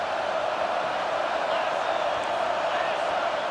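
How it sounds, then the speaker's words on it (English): Stadium crowd in a college football video game roars steadily at a third-and-long moment, a dense continuous wash of cheering with no clear breaks, loud and sustained throughout. "Defense getting a boost from this crowd on 3rd and long."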